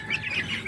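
Poultry chicks in a coop giving brief high chirps and peeping tweets, several quick calls overlapping in under a second, moderately close.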